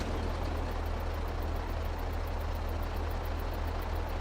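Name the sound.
truck engine starting and idling, from video game Farming Simulator 22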